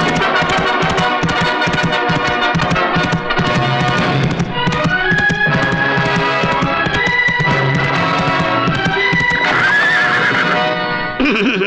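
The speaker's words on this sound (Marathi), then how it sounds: "बाहेर घोडा आलाय." A horse outside whinnies loudly again and again, high wavering neighs layered over clip-clopping hooves, close and continuous with no talk.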